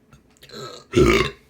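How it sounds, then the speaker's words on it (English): One loud, drawn-out burp after eating a ham and cheese calzone, with a softer belch before it, close to the microphone and otherwise quiet. "More ham and cheese calzone burps here"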